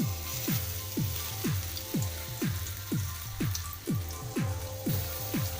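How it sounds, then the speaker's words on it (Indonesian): Steady crackling and hissing of colenak being fried in a small amount of hot oil, with a repeating low rhythmic sweep underneath. "minyaknya udah panas, kita goreng di minyak yang kecil ya"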